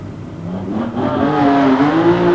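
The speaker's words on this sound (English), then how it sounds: "So it does look as though we're going to get a side-by-side rolling burnout." Drag racing cars at Santa Pod Raceway during a 1990 event do a side-by-side rolling burnout, with a steady loud engine roar rising in pitch as the revs build toward the end.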